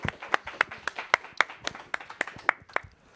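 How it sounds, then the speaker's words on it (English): Sparse clapping from a small group, sharp distinct claps in an uneven rhythm, close by, with no talking. "Let's get a round of applause"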